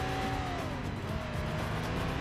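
Car overtaking in the Stuntman video game, a steady engine drone with a faint rising then falling pitch as it passes, no talk.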